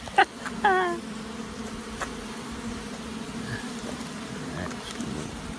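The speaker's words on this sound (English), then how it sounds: "Are your vents like this? Then you might have bees." Bees buzz inside a house vent, a faint, steady droning hum running throughout, with a few brief chirps near the start.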